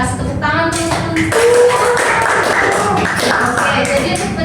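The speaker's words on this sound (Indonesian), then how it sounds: "Bisa kasih tepuk tangan teman-teman." Classmates in a school classroom lesson clap for a student, a burst of scattered hand claps mixed with voices and room noise.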